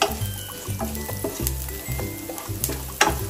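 Coriander seeds and cumin fry in a pan as masala for mutton curry, a continuous sizzle broken by rhythmic scraping stirs, close and fairly quiet, with no voices.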